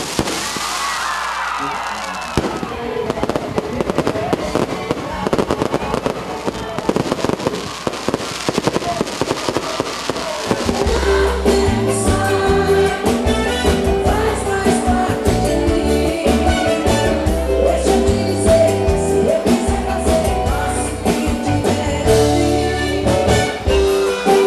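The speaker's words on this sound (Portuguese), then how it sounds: "E simultaneamente começa a queima de fogos." Fireworks burst during a midnight birthday countdown at a show, with loud dense crackling and bangs that keep coming, joined partway through by loud music and crowd noise.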